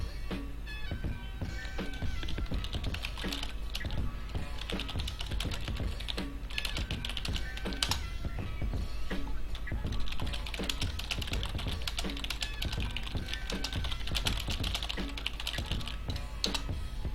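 Rapid, continuous clacking on a computer keyboard as a console command is typed in Team Fortress 2, with dense, uneven keystrokes that stay steady and close throughout.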